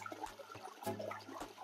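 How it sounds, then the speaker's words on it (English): Water churns and splashes from the filtration and plumbing of a 500-gallon outdoor fish pond, a soft, continuous burbling flow with small gurgling surges and no voices. "Look at all that water movement we got right now."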